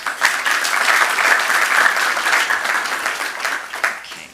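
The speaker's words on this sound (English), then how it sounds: "Big round of applause" An audience at a city council meeting claps in a dense, loud burst of applause that holds steady for several seconds and then thins out, with faint voices mixed in.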